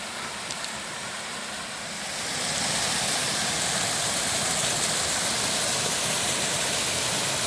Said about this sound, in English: we're just coming up to a really pretty little set of waterfalls